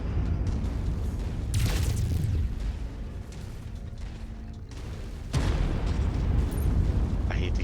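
Guns fire in the MechWarrior 5 video game with heavy booming blasts and bursts, one sharp strike near the start and a louder barrage in the last few seconds, a voice talking faintly between them.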